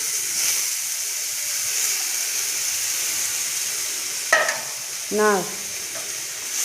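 Onion, ginger and garlic paste sizzles steadily in hot oil for a Katla fish curry, a close hiss with stirring, while a voice briefly speaks near the end.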